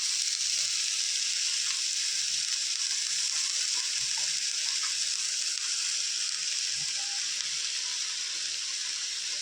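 Mustard seeds, urad dal, dried red chillies and finely chopped greens fry in hot oil for a keerai poriyal, a loud continuous hiss of sizzling with faint soft knocks beneath, close up and without talking.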